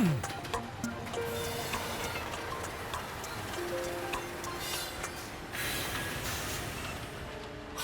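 A cartoon train rolls into a station with a faint, steady rattling rumble. Thin squealing tones and clicks rise through the noise.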